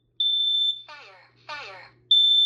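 Kidde Nighthawk KN-COSM-IB smoke and carbon monoxide alarm during a push-button test: a loud, steady high electronic tone, then two spoken voice announcements from the unit, then the piercing tone starts again.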